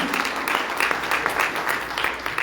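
A church congregation gives a loud, sustained round of applause honoring the Lord, steady dense clapping filling the room throughout with faint voices mixed in.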